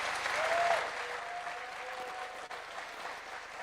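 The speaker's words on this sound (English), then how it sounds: "President Ruto and President Macron a warm round of applause" Audience applause at a summit co-hosted by the presidents of Kenya and France, a broad, sustained wash of clapping from a large crowd that swells briefly and then holds steady throughout.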